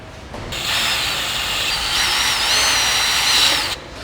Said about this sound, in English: Now that we've got our holes pre-drilled